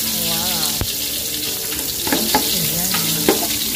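Pancit noodles cooking in a pan, heard as a steady close sizzle with stirring scrapes and a sharp clank, mixed with faint background voices and watery splashing.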